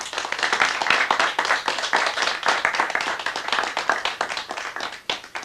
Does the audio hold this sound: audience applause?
yes